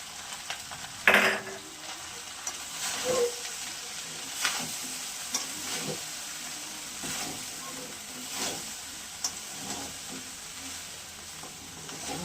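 Partly cooked rice for white pulao is tipped into a hot pan and stirred, with a soft steady sizzle, a sharp clatter at the start and repeated scraping strokes throughout.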